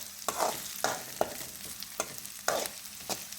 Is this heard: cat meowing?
no